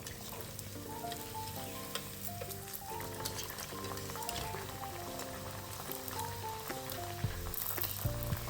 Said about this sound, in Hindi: इसी तरह हम सारी फ्राई कर लेंगे, जितनी भी हमारे पास, हमने सारी धीरे धीरे फ्राई कर लेनी है।